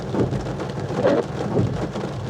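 Heavy pouring rain at a woodland campsite in Ashburton, Devon, a dense constant hiss of drops drumming on surfaces nearby, loud and unbroken with no voices.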